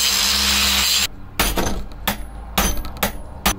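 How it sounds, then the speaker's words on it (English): A grinding wheel works a motorcycle steering stem from an XS750, first as a loud continuous whine, then as a series of short, sharp grinding bursts up close. "I'm going to go at it with the grinding wheel for a little bit longer"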